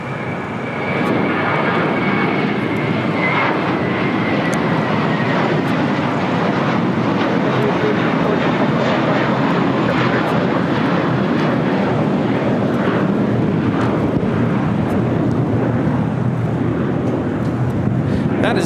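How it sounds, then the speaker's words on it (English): A JetBlue Airways A321 airliner takes off from LAX, its jet engines a loud, steady roar that holds for the whole stretch, with wind buffeting the microphone. "That is JetBlue Airways 324 taking off to JFK on an A321"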